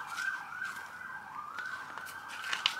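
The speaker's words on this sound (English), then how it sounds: "Sorry for the siren in the background," An emergency vehicle siren wails in the background, rising and falling in long sweeping cycles, steady and moderately distant with faint road noise underneath.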